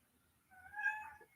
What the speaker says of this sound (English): She's hanging out in the hall and just crying at the door and scratching the carpet